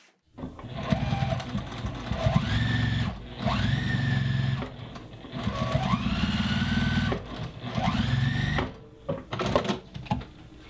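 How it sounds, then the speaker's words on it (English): Sewing machine straight-stitching a hand-embroidered tote bag, a loud whirring hum in steady bursts that starts and stops several times with short pauses between runs. "Just with a straight stitch on your sewing machine."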